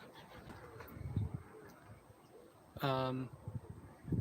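On a residential street near a neighbour's aviary, a pigeon gives one clear coo that rises out of outdoor background noise, with faint low rumbles and soft taps around it.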